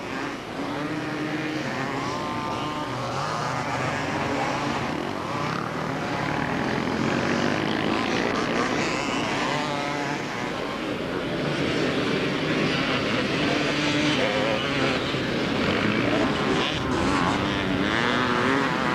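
Racing motorcycles, including a 125 Honda in a trail bike class, roar past on Southport beach during a 1992 beach race, a continuous loud engine drone with no breaks.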